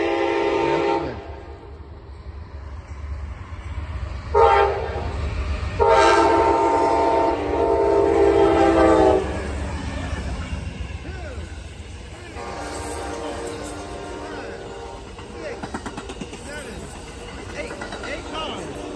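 An Amtrak train rolls through Cornelia, Georgia, sounding loud, blaring horn blasts in several bursts as wheels clatter past, with people talking nearby over the passing cars.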